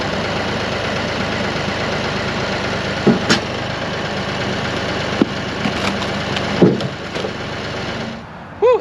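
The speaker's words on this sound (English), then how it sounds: "I'm gonna lower the tractor bucket just enough" A tractor engine idles steadily and fairly loud while its bucket is lowered, with a few sharp clunks and knocks near the end before the engine note drops away.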